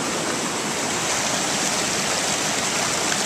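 The Mill River flows and rushes constantly around someone wading through it, a dense, even broadband water noise close by with no speech.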